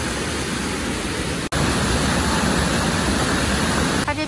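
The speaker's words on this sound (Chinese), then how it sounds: "给大家先看一下这整个的瀑布的感觉" A small waterfall with slightly yellow-tinged water spills over rocks along the Bruce Trail, giving a steady, dense wash of rushing water that fills the scene, with one brief cut partway through.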